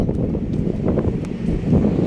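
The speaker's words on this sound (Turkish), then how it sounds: "Arkadaşlar özür dilerim bayağı rüzgar var." Strong wind gusts outdoors, buffeting the microphone with a low, uneven rumble and faint rustling throughout, with no talking.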